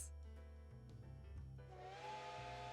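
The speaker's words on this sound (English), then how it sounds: "The sound of the steam whistle fills the platform as the train pulls out." A steam train's whistle sounds on a station platform as the train pulls out, a sustained bright tone building over a low rumbling hiss of steam, loud and close.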